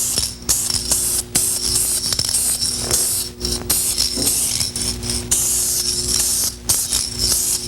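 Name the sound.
spray paint can applying a coat to a car body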